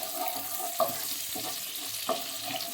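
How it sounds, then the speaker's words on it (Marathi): Butter heating in a pan for home-style butter chicken, with a soft steady sizzle underneath and a few brief scraping or clinking stirs, moderately quiet and close, with no talking. "आणि आता आपण इथे पण टाकतो आहे बटर."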